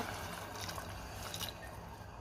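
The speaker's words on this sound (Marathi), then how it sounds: "आता आपल्याला त्यामध्ये पाणी घालायचे। मी पाणी घालतेय," Water pours steadily into a pot of rice for tomato pulao, a continuous splashing and gurgling stream at moderate volume, with no talking.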